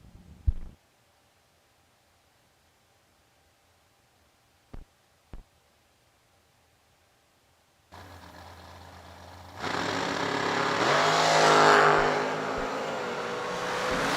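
Two drag racing cars at World Wide Technology Raceway, a Baldwin and a 517, fire up and launch together, the engine roar rising to a loud, sustained high-revving scream after near silence and a few sharp clicks.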